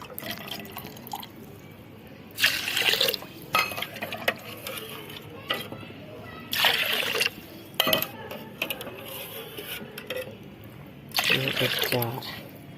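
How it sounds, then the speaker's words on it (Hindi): Water pours into a cooking pot of washed barnyard millet in three separate splashing bursts, with quieter drips and clinks of the pot between them as someone talks nearby. "अब मैं इसमें पानी डालती हूँ। ये 3 कटोरी था तो उसमें मैं 5 कटोरी पानी मिला दूँगी।"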